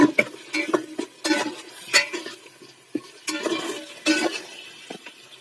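A whole fish head tossed with mixed vegetables in a pan, several scraping stirs and clinks of a spatula against metal, close and fairly loud with gaps between strokes.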